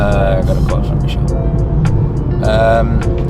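Car being driven, a loud steady engine and road rumble from inside the cabin with a person talking over it.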